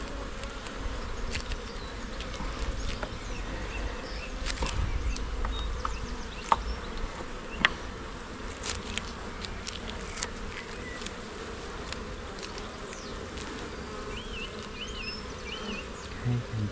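Honeybees buzz continuously during an inspection of a hive whose brood box is nearly full, a dense close drone with occasional individual bees passing near and a few light knocks.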